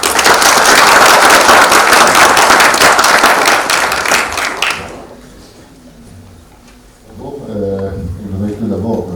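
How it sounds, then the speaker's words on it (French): An audience applauds architect Rachid Andaloussi at a conference in Tangier, with dense, loud clapping for about five seconds that drops off sharply into near quiet before a voice begins speaking. "Rachid Andalousi, et je vous demande de l'applaudir."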